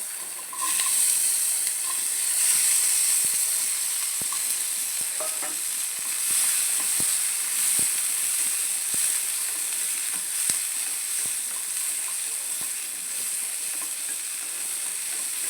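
Shallots, garlic, half an onion and a small piece of ginger sauté in a pan for a chutney, a continuous close sizzle punctuated by scattered light clicks of stirring.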